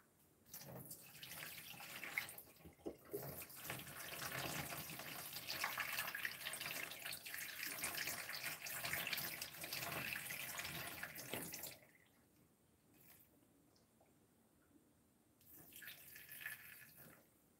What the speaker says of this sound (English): drain the water, I guess, a little bit.